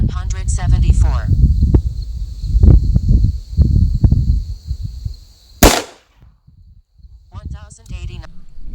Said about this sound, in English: All right, 5 shots.